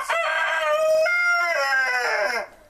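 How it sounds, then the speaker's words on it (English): An Orloff rooster crows once, loud and close, in a single long drawn-out call that rises and then trails off. "I've seen them crow when they're trying to get attention when something is amiss"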